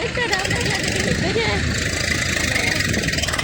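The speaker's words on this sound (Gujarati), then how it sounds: "હા મિત્રો જો રસ્તામાં મળ્યું આવું ટ્રેક્ટર" A tractor engine chugs along a road, a steady mid-pitched rumble heard close and continuously while someone talks over it.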